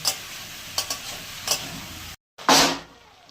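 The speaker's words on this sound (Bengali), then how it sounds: "এবার ঢাকা দিয়ে আস্তে আস্তে কষাবো, কষানোতেই হয়ে যাবে।" Dried fish curry with a little jaggery sautéing in a pan: spoon stirs and scrapes over a steady sizzle, then a brief silence and a louder burst of frying.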